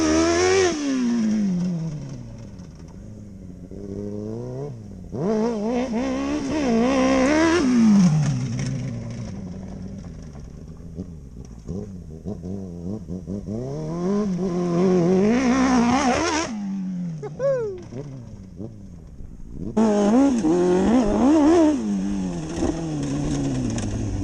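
Honda CBR DRZ 600 MX hybrid motorcycle, around 100 horsepower, riding past with engine revs rising and falling in long pulls, loud and close throughout, with a brief drop before a strong surge near the end.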